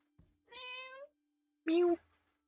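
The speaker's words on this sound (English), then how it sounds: "The cat's a little loud." A cartoonish cat meows twice inside a video game, each call drawn out and harmonic, loud and close against an otherwise quiet backdrop.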